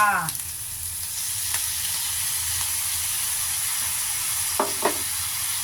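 Mama instant noodles stir-fried with soy sauce and a little sesame oil give a steady, fairly loud sizzle that runs through the whole stretch, with a couple of brief scraping stirs near the end.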